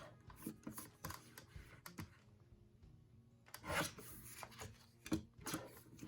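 Trimming printed photos for a memory planner about an Erie Canal boat tour, with quiet intermittent rubbing and rasping cuts and handling noises, scattered through the stretch and busier near the end, no talk.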